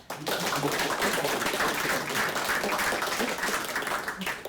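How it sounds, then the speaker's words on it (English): Audience applause at the close of an evening meetup event with several speakers, a steady moderate patter of many hands clapping throughout, somewhat distant in a room. "give him an applause"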